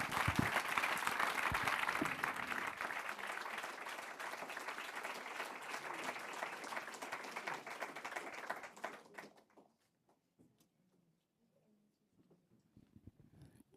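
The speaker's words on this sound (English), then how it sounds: "I think we can give them a warm round of applause." Conference audience applause, a sustained wash of many hands clapping at moderate distance for about nine seconds before fading out into near silence with a few scattered taps.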